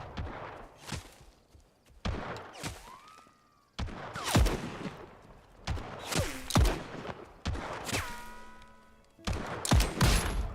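Gunfire in the Western video game Legend of California: a string of sharp, separate shots spaced a second or two apart, each ringing with a metallic tail, with brief game tones between them and no talk.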